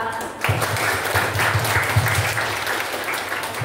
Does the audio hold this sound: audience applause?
yes